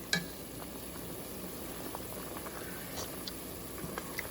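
Kamias (bilimbi) simmering in a pot, a steady low bubbling with a few faint clinks and stirring sounds, no talk.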